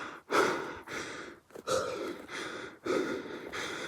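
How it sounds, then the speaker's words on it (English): Heavy, rhythmic panting from a hiker who has just run up a steep trail toward a mountain peak at dawn: close, ragged gasps of breath in steady cycles, with no speech. "As you can tell by my terrible panting, kind of ran up here."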